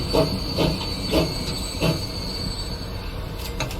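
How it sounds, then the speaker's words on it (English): A freight train arrives at a station in the game Transport Fever 2, with steady rolling rumble, a high squeal of wheels and a few rhythmic clunks of cars passing over rail joints. "Here we are, our local food train arriving to deliver food."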